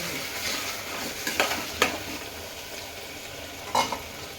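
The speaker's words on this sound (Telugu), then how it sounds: "చామగడ్డ నీట్గా కడిగి కోసి పెట్టుకున్నాం కదా, ఇలా వేసి మంచిగా కొంచెం ఉప్పు వేసి మగ్గనియాలి." Chopped taro root fries in a pan with salt, chili powder and turmeric, making a continuous sizzle broken by a few sharp scrapes and clacks of a spoon stirring against the pan, close and fairly loud, with no talking.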